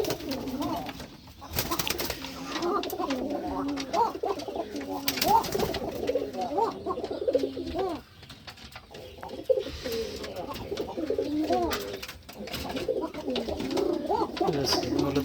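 Pairs of pigeons kept for sale give loud, close, rolling coos in overlapping rounds, with a voice talking intermittently among the calls.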